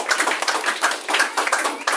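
A church congregation claps in a quick, fairly even rhythm, many hands together sounding close and lively, with faint voices mixed in.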